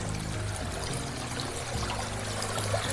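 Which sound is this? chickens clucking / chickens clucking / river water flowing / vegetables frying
river water flowing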